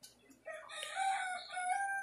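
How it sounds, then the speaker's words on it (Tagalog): A rooster crows once in a long, loud call close by, with chickens nearby. "Mga manok sa likod"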